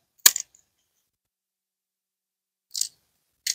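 Pruning shears cutting back dead branches on a Don Juan climbing rose grown up a holly tree, three sharp separate snips with long quiet gaps between them, close and clear.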